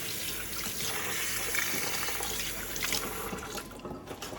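Steady running water splashing into a basin as rice is washed, with faint stirring and trickling throughout, fairly close and continuous.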